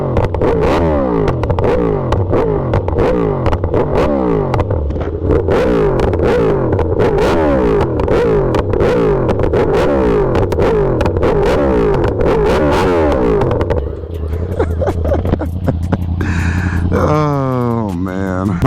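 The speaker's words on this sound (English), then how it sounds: "Let's let y'all hear this exhaust real quick." A sport motorcycle's exhaust is revved hard in a steady series of quick, loud throttle blips for about fourteen seconds. It then drops to a rumbling idle while someone speaks close by.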